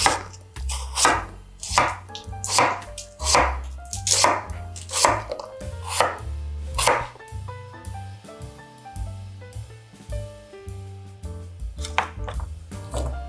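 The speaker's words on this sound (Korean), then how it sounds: "먹기 좋은 크기로 썰어줍니다." A knife chops a large radish into bite-sized pieces on a board for kimchi, a steady run of crisp, close thuds that slows and fades into quieter cuts near the end.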